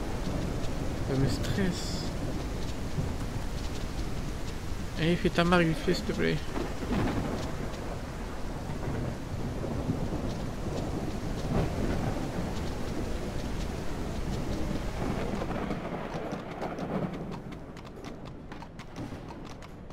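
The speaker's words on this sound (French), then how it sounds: "Elle est tellement mal faite cette pluie là" Rain and rumbling thunder in the ranching video game Ranch Simulator, a steady hiss of downpour with booming rolls of thunder and horse hooves clopping, while a person talks over it throughout.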